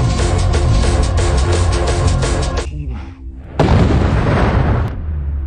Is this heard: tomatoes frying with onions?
no